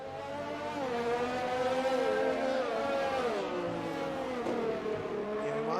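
Formula 1 cars crawl behind a safety car on a wet Suzuka circuit, engines humming steadily with gently rising and falling pitch, fairly loud and close, no voices.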